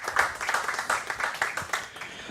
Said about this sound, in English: Can we start with a warm round of applause for Ms. Erica Simmons and Mr. Paul Hector?